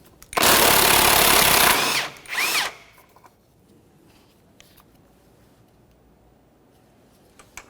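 A power tool whirring on an 18mm control arm mounting nut on a 1994-1997 Honda Accord: one long loud burst, a short second burst, then quiet shop ambience with faint clicks.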